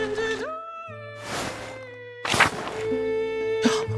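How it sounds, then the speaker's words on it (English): A cat in the Pentiment game meows a few times at an abbey, its tonal cries rising and falling over soft background music, close and clear. "Hi, kitty cat."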